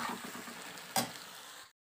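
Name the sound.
spinach paste cooking with fried tomato and onion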